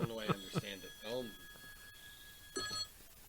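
A telephone gives a short electronic ring near the end, faint and brief, following voices talking in a room.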